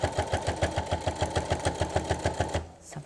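A domestic sewing machine stitches through joined bunting fabric, running in a fast, even rhythm of close mechanical clatter that stops abruptly near the end.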